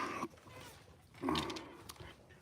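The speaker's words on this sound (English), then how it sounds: "I got my dog Otis with me" A dog makes two short, close vocal bursts outdoors on a lawn, growly or whining, separated by a quiet gap, with a faint third sound near the end.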